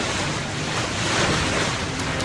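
Storm surge waves along the southwestern shore of Long Island during flooding roar in a dense, continuous wash, loud and close, with strong wind buffeting the microphone and no voices.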